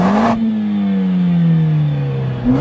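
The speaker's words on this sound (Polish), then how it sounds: "A teraz wezmę na neutral, na Sport Plusie zobaczycie, jak na jałowym biegu brzmi ten samochód." A Mercedes CLA45 AMG with 390 hp, in neutral and Sport Plus mode, revs sharply and then holds a loud, close engine note that slowly sinks in pitch before it climbs again.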